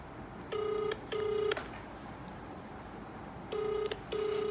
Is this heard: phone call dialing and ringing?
yes